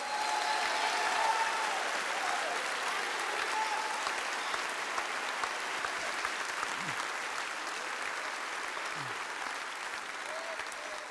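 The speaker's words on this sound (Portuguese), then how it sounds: "Aplauda bem forte a Ele" Church congregation applauding during a Portuguese-language sermon, steady sustained clapping of moderate loudness that carries on unbroken throughout, with faint voices mixed in.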